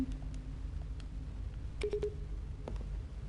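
Button presses in The Stanley Parable on PS4, a few short electronic beeps and tones of varying pitch, heard alone over a steady low background hum.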